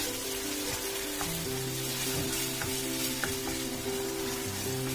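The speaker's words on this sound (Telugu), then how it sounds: "1 స్పూన్ అల్లం వెల్లుల్లి పేస్ట్ వేసుకొని పచ్చివాసన పోయేంత వరకు వేయించండి" A spoonful of ginger garlic paste fries in a pan for an aloo masala curry, giving a steady, close sizzle with a few faint stirring clicks and a low hum beneath, no voices.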